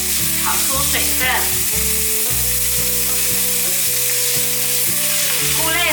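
Straw mushrooms and enoki mushrooms stir-frying in a hot wok, with a loud, steady sizzle and hiss that runs unbroken throughout, plus utensil scrapes and a faint musical background.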